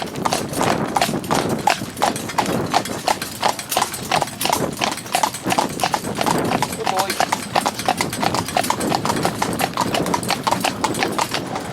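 A horse named Danny walks on a slack rein, his hooves striking in a steady, close clip-clop rhythm throughout while someone talks over the footfalls.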